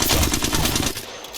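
Submachine gun fire in a video game, a rapid sustained burst of close, loud shots that rattles for about a second, then cuts off into a short quiet tail.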